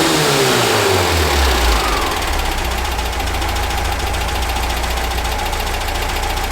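A VW Baja Bug engine, freshly timed and carburetor-tuned, settles into a steady idle around 850 RPM after a brief falling rev, running loud and close with an even, continuous rumble and no talking.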